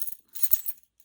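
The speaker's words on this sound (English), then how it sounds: "As you can see, I have my keys here with an Apple AirTag on a Belkin" Keys carrying an Apple AirTag on a Belkin key leash loop jangle briefly, giving a short light metallic clink, then a fuller rattle of keys close by, then quiet.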